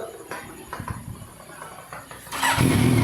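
A Yamaha FZ8 motorcycle with an M4 exhaust idles with uneven rumbling, then revs up loudly near the end into a strong, raspy exhaust roar.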